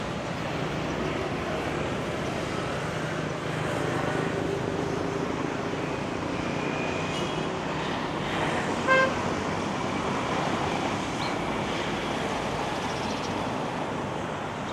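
Steady street traffic of cars and motorbikes in Da Nang hums throughout, with engines passing and a brief horn toot partway through, all fairly distant and even.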